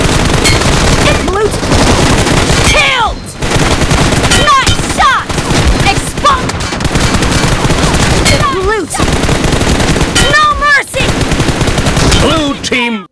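Rapid automatic gunfire from hip-fire shooting in PUBG Mobile, loud sustained bursts of shots with brief gaps, dense and continuous across the clip.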